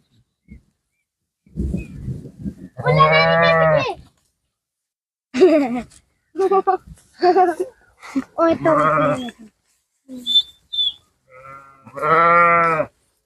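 A large herd of sheep and goats, including young ones, brought for the Eid al-Adha sacrifice, bleats in several loud separate calls with quiet gaps between them.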